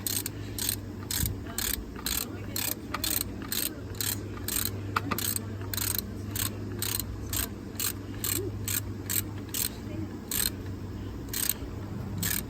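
A ratchet clicks in rapid, regular bursts while tightening a bolt on the 3.2 L engine of a 2004 Chrysler Crossfire during a thermostat replacement, a close, crisp series of pawl clicks with brief pauses between strokes.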